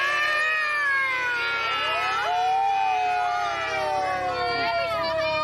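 Several voices imitate a siren together with long rising and falling wails that overlap and slide in pitch, loud and close.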